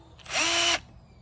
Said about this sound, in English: I punch a little starter hole to be able to drill.